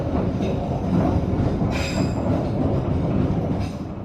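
An Argo Bromo Anggrek passenger train rolls slowly into Semarang Tawang station, with a continuous low rumble and rattle of the carriage and a brief high wheel squeal partway through, heard steady and close from inside the train.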